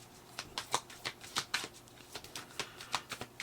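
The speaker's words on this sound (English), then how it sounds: "We're going to go ahead and pull 3 oracle cards for you." A deck of oracle cards is shuffled close by, a rapid series of soft crisp riffling flicks in a quick irregular rhythm, quiet with no talking.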